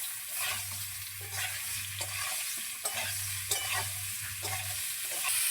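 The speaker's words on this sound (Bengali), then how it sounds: "আলুর সঙ্গে ঝিঙেগুলো কিছুক্ষণ সময় নিয়ে ভেজে নেব।" Ridge gourd and potatoes frying together in a pan, with a continuous sizzle broken by repeated rhythmic scrapes and clinks of a spatula stirring, close by and without talk.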